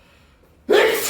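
A person lets out one loud, abrupt sneeze close by, a sharp burst right after a brief spoken word.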